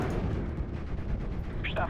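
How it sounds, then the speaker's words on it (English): Rumbling explosions and booming blasts from a dive bomber attacking howitzers in the WWII strategy game Steel Division: Normandy 44, a dense, continuous low roar with a brief higher burst near the end. "Let's go and bomb these howitzers."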